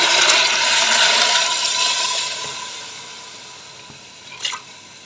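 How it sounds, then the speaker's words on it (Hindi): Two litres of water pour steadily into a pot of lentils, splashing loudly at first and fading to a soft trickle, with a brief clink near the end. "यहाँ पर दाल में मैंने 2 लीटर पानी शामिल किया है"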